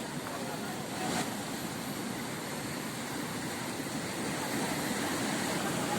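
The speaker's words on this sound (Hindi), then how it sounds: "ये देखिए पानी का बहाव कितना तेज है" Fast-flowing river current in a village in Chamba district, Himachal Pradesh, a steady broad rushing roar that continues unbroken and fairly loud throughout.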